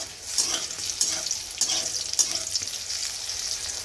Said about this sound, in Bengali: বেগুন ভাজা হচ্ছে